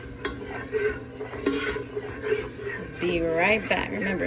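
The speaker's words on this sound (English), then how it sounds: "keep stirring it until it turns chocolatey" A roux being stirred in a pot gives soft, steady scraping and swishing strokes at low volume, with a person talking over much of it.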